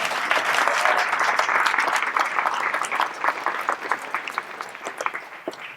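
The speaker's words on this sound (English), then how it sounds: "She deserves another round of applause." Audience applause for Joy at an Eaton Fire survivors anniversary press conference, a dense steady clatter of many hands that holds strong and then thins slightly toward the end, with no talk over it.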